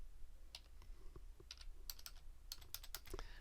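Quiet, irregular clicks of keys on a computer keyboard as numbers are typed into a spreadsheet, several short bursts of keystrokes close by with no talking.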